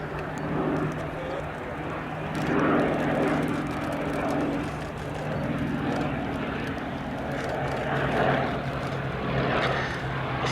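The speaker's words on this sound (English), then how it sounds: "Now the two Westland Lysanders." Two Westland Lysander aircraft pass at the Duxford Battle of Britain airshow, their piston engines giving a broad, rising and falling drone at moderate distance amid open-air background noise, with a commentator's voice over it.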